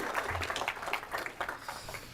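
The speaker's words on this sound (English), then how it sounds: "Let's give them a round of applause." A Senate agriculture committee room applauds visiting 4-H guests, a brief patter of scattered clapping heard from a short distance at modest volume.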